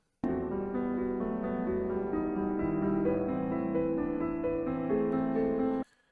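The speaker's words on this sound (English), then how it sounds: "I pitched it down to sound like this" Final Fantasy X game music sample pitched down, a sustained tonal loop of layered low harmonic notes playing steadily for about six seconds before cutting off abruptly, with no talking.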